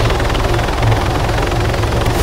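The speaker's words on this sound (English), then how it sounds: "Is a helicopter landing?" Helicopter in the Arma 3 video game setting down for a landing, a loud steady rotor and engine roar with low chopping throb that fills the whole moment, no voices.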